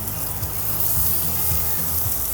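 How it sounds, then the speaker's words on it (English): Fish hitting a hot skillet with brown butter gives a steady close sizzle, a broad hiss that stays even over a couple of seconds while low background music plays beneath it. "Nice little sizzle."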